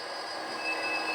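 Model train running on a layout, a brief steady rolling rumble with a thin high-pitched wheel squeal on top, close and moderately loud, no voices.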